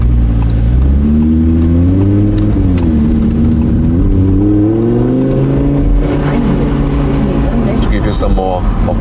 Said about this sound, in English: they always give you the chance to accelerate from standstill again